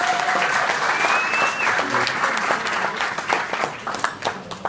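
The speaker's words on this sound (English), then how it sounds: "Big round of applause for the family." Wedding guests break into a full, sustained round of applause for the family, dense hand clapping from a crowd filling the room with some cheering voices over it.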